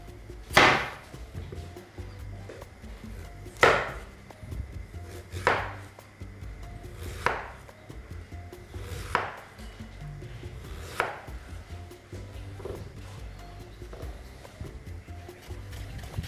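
A kitchen knife slices a carrot into thin rounds on a cutting board, with about seven crisp, separate chops spaced roughly two seconds apart, each a sharp knock against a quiet background.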